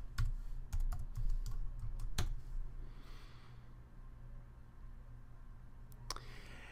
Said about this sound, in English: I type in my password.